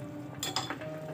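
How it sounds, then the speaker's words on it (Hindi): A spoon scrapes and clinks against a pot of boiling mutton paya soup, a short cluster of metallic taps and a stirring rattle over a steady low simmer, with no talking. "तो बस इसी में हम इसको धीरे धीरे डालेंगे और चलाते जाएंगे"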